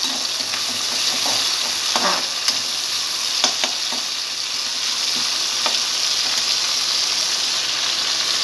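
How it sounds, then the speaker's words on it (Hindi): Chopped tomatoes sizzle and fry steadily in a pan of jeera aloo, with a constant loud hiss and occasional stirring clinks and scrapes throughout. "अब इसमें डालेंगे कटे हुए टमाटर।"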